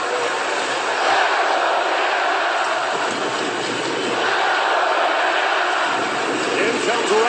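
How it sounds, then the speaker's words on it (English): Arena crowd buzzing at an ice hockey final, Canada against Finland, a steady broadband roar of many voices filling the rink throughout, with a commentator talking over it. "The crowd still buzzing about that near goal of 3-on-1 rush for Finland"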